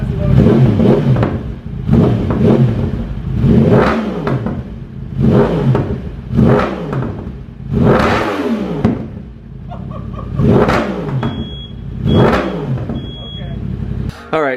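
Loud, close revving from a Yamaha R1M motorcycle fitted with a race exhaust and race air filter: about eight sharp throttle blips climb higher, each falling back to a rumbling idle between them.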